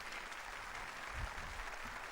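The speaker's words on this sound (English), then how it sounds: "Perfectly timed with a round of applause as Pope Francis exits the stage." A faint, distant round of audience applause as Pope Francis leaves the stage after addressing Singapore authorities, civil society and diplomats, a soft even patter with a low thump midway.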